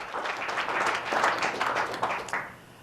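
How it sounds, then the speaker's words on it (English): An audience at a New Hampshire town hall breaks into clapping, a dense burst of many hands with a few sharper individual claps standing out, continuous and fairly close throughout. "you can clap for that because it's a serious issue"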